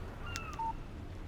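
A short electronic text-message alert from a phone in the Alan Wake video game, a brief two-tone chirp that ends in a clear sustained beep, faint against a steady low background.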